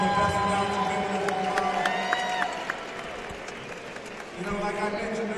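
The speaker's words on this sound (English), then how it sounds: "Let's give Derek a round of applause, guys." A live-stream event audience gives a round of applause and cheers for a guest: a steady wash of clapping with a few crowd shouts, fairly close, tapering off slightly partway through before swelling again.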